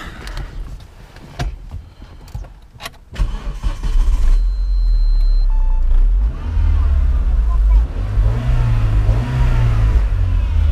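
A 2005 Renault Mégane RS engine cranks and catches, then settles into a steady, loud close-up idle that swells slightly later on, after a few sharp knocks at the start.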